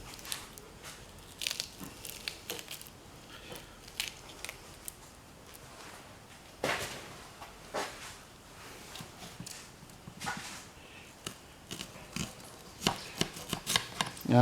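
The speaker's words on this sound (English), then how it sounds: "since my onion is so small, I'm just going to chop it in half" A small onion is chopped on a cutting board for German fried sardines with onions, giving a string of crisp, irregular knife knocks and crunches close by, with brief pauses between bursts.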